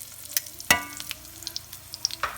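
Fish for tacos sizzling in oil with clinks and scrapes of tongs moving pieces, crisp pops scattered over a soft, steady fry.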